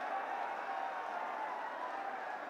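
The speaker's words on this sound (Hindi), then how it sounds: "आप में से जो जो स्वागत कर रहे हैं हाथ उठा करके तालियां बजाते रहे" A crowd at a welcoming gathering in Mewat claps steadily with raised hands to greet a guest, a dense, even wash of applause that holds at a moderate, somewhat distant level throughout.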